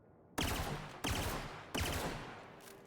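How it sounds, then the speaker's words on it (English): A 3-round burst energy bolt pistol fires in The Outer Worlds video game. Three sharp, loud blasts come at even intervals, and each one trails off into a reverberant decay. "Here's the bolt pistol, as it's called. Whoa! So, a 3-round burst energy pistol."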